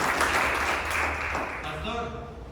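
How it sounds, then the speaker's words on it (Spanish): A church congregation claps and cheers in a broad, sustained wash of applause while a voice speaks over it, with the clapping fading slightly toward the end. "Denle un aplauso al Señor."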